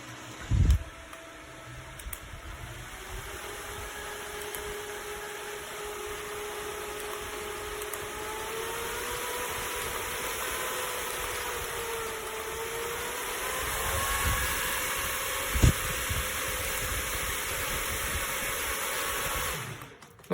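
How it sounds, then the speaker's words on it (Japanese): A SOMIY 43V battery-powered fan on an air-conditioned work jacket runs at full power of its four speed settings, a loud steady whir with a faint tonal hum that drifts in pitch, continuous throughout with no talking. "フルパワーにしてやるとかなり強力な風が入ってきましたね。"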